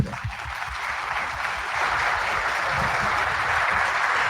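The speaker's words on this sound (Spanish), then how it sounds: "Agradecemos al doctor con un fuerte aplauso" An audience at a conference talk claps steadily, a dense wash of applause that swells slightly and holds without any voices.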